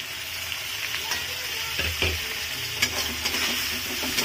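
Spice paste with onions fries in a pan with a constant close sizzle, while a utensil stirs and scrapes in several distinct strokes against the pan. No one speaks.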